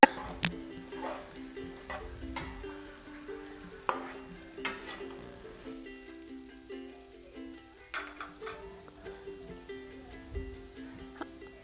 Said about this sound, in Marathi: आपण हे छान परतून घेऊया